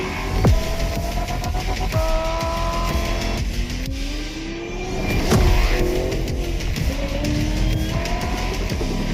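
A Fiat 500 engine in the video game The Crew Motorfest revs and shifts through the gears, with tires squealing at times, loud and sustained throughout.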